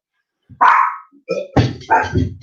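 A dog barks indoors at close range, a few loud, sharp barks with a short whine between them, nearby and clear in a quiet room.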